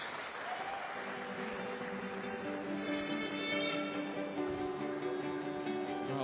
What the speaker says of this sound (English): Ladies and gentlemen, a round of applause for your medal winners.